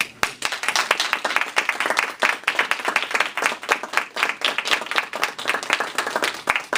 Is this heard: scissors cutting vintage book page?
no